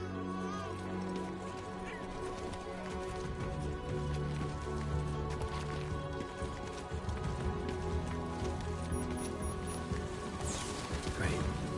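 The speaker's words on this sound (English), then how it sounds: "Oh, it's raining!" Steady rain patters throughout a video game scene, a dense wash of drops over layered game music and effects, with a few brighter splashes near the end.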